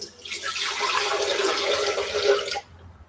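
Filtered water pours into a high-speed blender for a keto vermicelli noodle recipe, making one steady, full splashing stream for about two and a half seconds before it stops.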